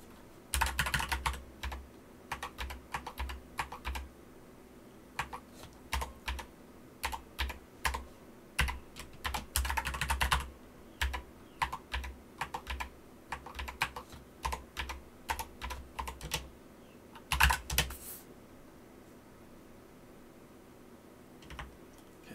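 Someone types code on a computer keyboard while programming an Amstrad CPC missile command game, with irregular runs of close, clattering keystrokes and pauses for about twenty seconds.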